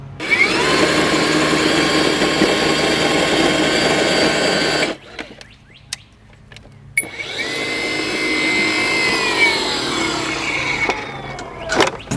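An Ego cordless electric earth auger whirs steadily as it bores into the ground, stops for a few seconds with light knocks, then drills again.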